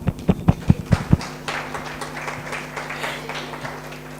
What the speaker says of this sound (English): j'aimerais bien des applaudissements pour vous également